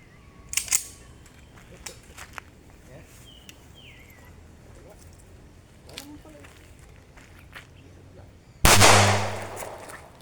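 A single loud gunshot cracks near the end with a long ringing decay during test-firing at amulets, after quiet clicks and a few muffled voices.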